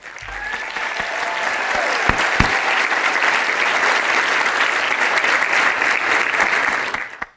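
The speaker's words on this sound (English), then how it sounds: "How about a big round of applause for them?" A big round of applause from the audience at a Rappahannock Community College commencement ceremony, dense and loud, swelling quickly and holding steady for several seconds before cutting off.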